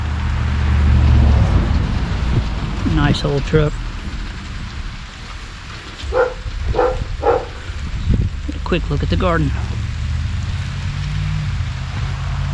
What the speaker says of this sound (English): decided to rain a little bit.